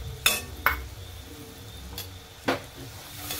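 Crab curry with red chutney being stirred in a pan: a few sharp scrapes and clinks of a utensil against metal over a faint background sizzle, close up and without speech.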